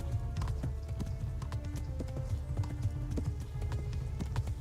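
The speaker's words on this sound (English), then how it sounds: "Come on, horsey." Horse galloping in the video game Kingdom Come: Deliverance, a steady drumming run of hoofbeats over a dense, rumbling bed of game music and ambience with faint tonal lines.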